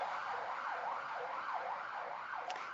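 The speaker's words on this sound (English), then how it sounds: "If you could hear the sirens in the background" An emergency siren wails in a steady rising and falling cycle in South Africa, sounding distant and faint with no voices over it.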